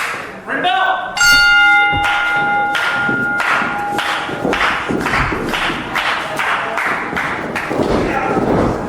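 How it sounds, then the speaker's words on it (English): A wrestling ring bell at an independent wrestling show rings out with a bright, sustained metallic tone that fades over several seconds, over crowd cheering, clapping and thuds, with a voice talking. "Ring bell!"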